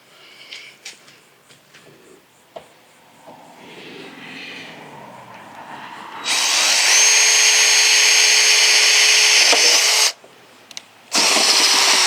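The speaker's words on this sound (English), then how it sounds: "now I'm going to start drilling" A power drill bores holes in the body of a Subaru Crosstrek for an off-road snorkel install. Quiet handling sounds come first, then two loud, close whirring drilling bursts, the first lasting about four seconds and the second shorter after a brief pause.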